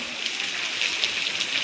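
Steady rain pours down in a village, a dense, even hiss of drops striking surfaces without any clear break.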